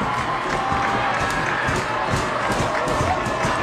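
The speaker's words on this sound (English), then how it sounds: "These HFL fans can make some noise." Crowd of fans at a high school football game making noise, a dense sustained roar of cheering and shouting close around, with an announcer's voice over it.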